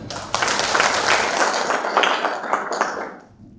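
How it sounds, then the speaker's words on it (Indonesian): Applause from attendees at an education-office focus group on inclusive-school special assistant teachers, a steady patter of many hands clapping for about three seconds before thinning out at the end. "tepuk tangan dong"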